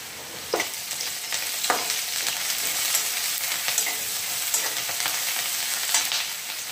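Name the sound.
mustard seeds and cumin frying in oil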